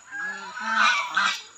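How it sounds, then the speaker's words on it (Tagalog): Large farm geese honk nearby with several loud, nasal calls in quick succession, clear and close with little else around them. "Ito po yung mga gansa, yung mga makukulit na gansa"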